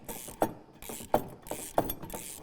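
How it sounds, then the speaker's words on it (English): A hand ratchet with a 19 mm socket tightens the U-bolts of a fuel tank on a Ford Powerstroke 6.7L truck, giving three close, distinct clicking pulls in a steady rhythm. "The final step, we're going to use a 19 millimeter and start tightening down our U-bolts."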